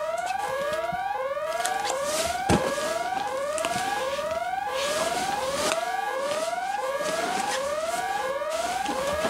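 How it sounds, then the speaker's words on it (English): A wailing siren-style alarm cycles steadily and loudly over a fire-lab scene, its repeated rising sweeps continuing without pause for the whole stretch. "Oh no, the alarm!"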